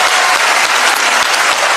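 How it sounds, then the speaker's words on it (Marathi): An audience claps loudly and densely at a lively public talk, a short continuous burst of applause filling the space with no voices on top. "एकदा जोरदार टाळ्या होत्या विचार मंचासाठी."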